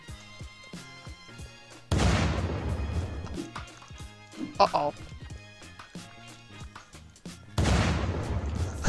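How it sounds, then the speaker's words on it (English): Explosions in the survival game Unturned, two heavy booming blasts with a long roaring tail separated by several seconds, amid scattered clicks and gunshot-like cracks, while someone briefly speaks between them. "Oh shit, that explosion scared me."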